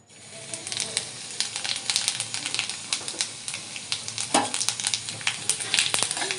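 Whole cumin seeds sizzling in hot mustard oil to temper a semolina and potato snack, making a constant close frying hiss dotted with rapid sharp pops and crackles throughout.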